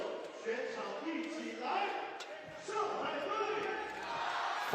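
Crowd at a 3x3 basketball finals in Shanghai cheering and roaring in a steady, fairly distant swell, with a sports commentator talking over it.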